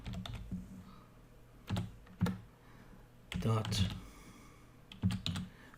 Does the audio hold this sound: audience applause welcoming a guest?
no